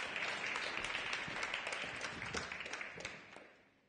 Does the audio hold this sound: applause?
yes